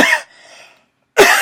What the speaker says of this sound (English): when I coughed, a little bit of spit got on my phone